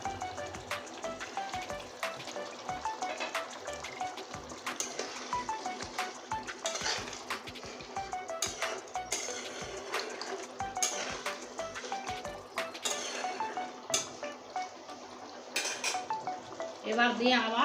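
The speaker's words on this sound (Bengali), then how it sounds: "কিছুক্ষণের জন্য ভেজে দিচ্ছি" Potato, pointed gourd and fish-head curry cooking in a pan with garam masala paste, soft sizzling under repeated clinks and scrapes of a spatula against metal, a lid rattling near the end.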